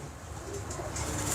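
Pigeons of a prized 1.25 lakh breed, the main strain of a champion Punjab pigeon fancier's flock, coo softly at close range, with low throaty rumbling over a steady background hum.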